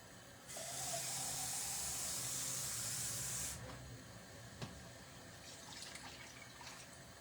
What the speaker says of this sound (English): I need to put a bit of water in there.